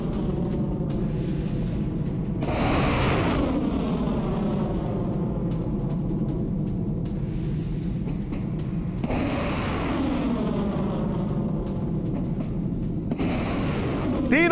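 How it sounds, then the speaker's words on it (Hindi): Booming explosions from Russian hypersonic missile strikes on a Ukrainian drone shell production site, heavy rumbling blasts rolling in repeated waves over continuous low roar, loud and sustained. "रूसी सेना ने दागी हाइपरसोनिक मिसाइलें, यूक्रेन के ड्रोन शेल प्रोडक्शन साइट पर निशाना"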